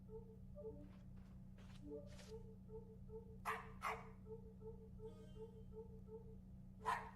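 A dog barks in short bursts inside the video game AfterDream, a few separate yaps over a low steady ambient hum, moderately close and fairly quiet, with no talking.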